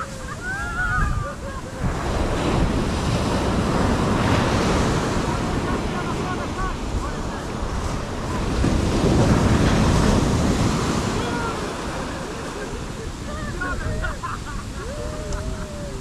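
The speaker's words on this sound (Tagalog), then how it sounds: "malakas ang alon" Strong ocean surf breaks steadily at Baker Beach near the Golden Gate Bridge, a continuous loud wash of waves with gusting wind noise buffeting the microphone while people talk over it.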